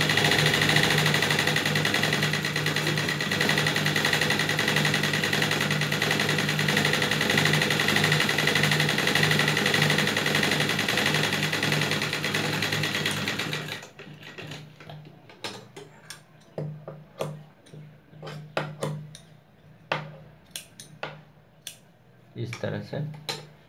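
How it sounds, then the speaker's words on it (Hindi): Sewing machine stitching a fabric face mask, running loud and steady for about fourteen seconds, then stopping, followed by scattered clicks and light handling noises. "एक पैर का थोड़ा सा मार्जिन लेके 2 सूत का इधर से हम सिल लेंगे।"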